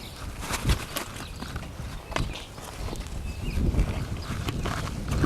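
A young two-year-old horse walks during training, its hooves giving irregular soft thuds on the ground at close range, with steady background noise and no talking.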